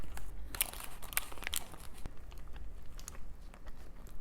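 Biting and chewing a handmade burger from Downtowner, close and fairly loud, with sharp crunchy bites and wrapper crinkles early on, then steadier soft chewing for several seconds.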